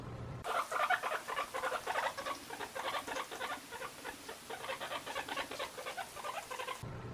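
A guinea pig gives a rapid string of high, chattering warning squeaks, fairly close and continuous, with no voices present.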